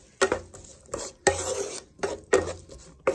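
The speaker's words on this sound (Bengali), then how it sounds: "এবার এটা অ্যাড করে দেবো, দিয়ে ভালো করে ভেজে নেব।" Ingredients frying in a pan for a prawn dish, stirred briskly so that a spatula scrapes and knocks the pan in repeated bursts over a low sizzle.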